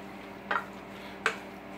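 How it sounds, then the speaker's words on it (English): A squash casserole mixture stirred and blended in a bowl, two distinct scraping clinks of a utensil against the bowl, close and fairly quiet. "We're going to stir all this up and blend it up good."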